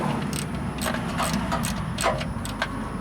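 Rapid ratchet clicks in short bursts over a steady background rumble as the last transmission pan bolt is undone on a 2006 Ford F-150.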